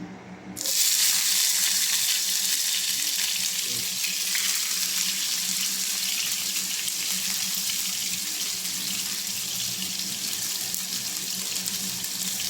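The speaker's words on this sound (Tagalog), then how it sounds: "naglagay po ako ng konting mantika kasi gusto kong isang kotsa itong green chili" Green chili sizzling and frying steadily in a small amount of hot oil, a loud continuous hiss that begins abruptly and holds throughout with no talking.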